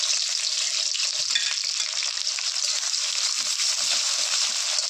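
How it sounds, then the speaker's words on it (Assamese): Chopped onions fry in hot oil with whole cloves, cardamom and a little cinnamon, giving a steady, moderately loud sizzle with a few soft stirring knocks underneath. "এতিয়া মই কাটি থোৱা পিঁয়াজখিনি দি দিম"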